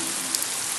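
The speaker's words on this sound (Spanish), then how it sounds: "¡En la lluvia! ¡En la lluvia!" Steady rain sound effect from the Pocoyo cartoon, a continuous broadband hiss of falling water with no talk, soft and even throughout.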